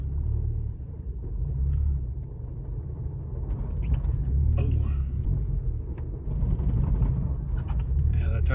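A 2015 Honda Civic FB2 with a lightened flywheel makes a low engine rumble that judders and shudders as the clutch engages. A person talks over it at times.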